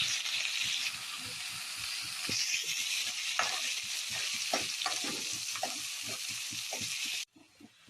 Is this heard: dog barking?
no